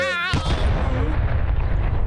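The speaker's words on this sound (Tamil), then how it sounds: "அந்த கப்பு வெடிச்சிருச்சு." A cartoon cup bursts with a sudden loud broadband blast right after a brief musical tone, followed by a dense rumbling, crackling wash of debris and reverb that stays loud to the end.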